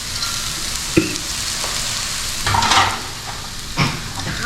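Grated carrots hit hot oil with browned garlic in a pan, giving a steady broadband sizzle with brief scraping stirs and louder bursts as the vegetables are tossed.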